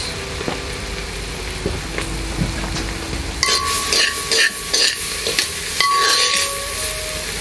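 Onions frying in butter on a live outdoor grill, sizzling steadily, with metal utensils clinking and stirring in bursts over the hiss.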